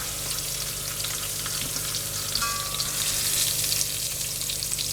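Browned beef shanks sizzle in a pan of hot oil with a steady, close crackle and hiss. A few faint scrapes come through the frying as it continues.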